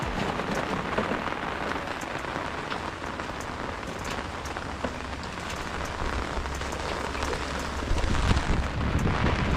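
Rain falls hard and constantly, a thick roaring patter with a low rumble swelling near the end, no voices heard.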